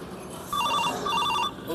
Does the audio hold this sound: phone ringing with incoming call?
yes